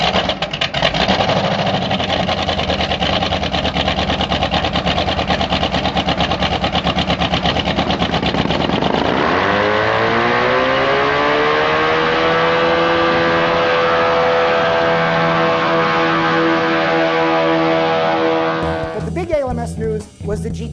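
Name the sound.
race car engine running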